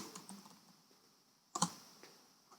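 Light keystrokes on a computer keyboard as slide text is typed into PowerPoint, a few soft scattered taps, then a brief cluster of louder clicks, close and quiet with no voices.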